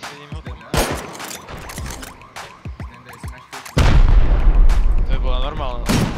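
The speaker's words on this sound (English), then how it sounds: "They start to shoot also a normal rocket." Rockets launching and exploding during a base raid in the video game Rust, a series of sharp bangs followed by a heavy, loud blast near the end, with voices talking throughout.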